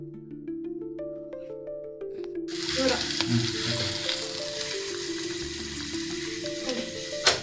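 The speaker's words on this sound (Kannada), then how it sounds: "ಒಗ್ಗರಣೆಗೆ ಒಂದು 2 ಸ್ಪೂನು ಎಣ್ಣೆ, ಸಾಸಿವೆ, ಈರುಳ್ಳಿ, ಕರಿಬೇವಿನ ಸೊಪ್ಪು" Oil tempering with mustard seeds, onion and curry leaves bursts into a loud sizzle as ingredients hit the pan, frying steadily afterward with stirring, after a few seconds of soft music beforehand.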